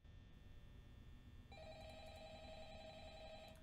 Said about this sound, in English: Is someone gonna answer that phone?